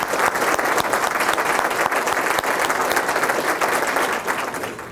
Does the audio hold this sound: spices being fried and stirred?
no